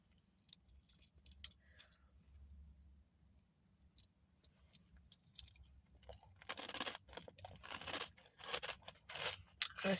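Crunchy falafel chewed up close, quiet at first, then a rapid run of loud crisp crunches in the second half.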